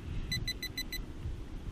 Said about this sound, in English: I imagine it's beeping because it's got a low battery